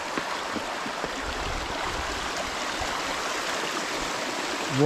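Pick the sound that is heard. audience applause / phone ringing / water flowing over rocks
water flowing over rocks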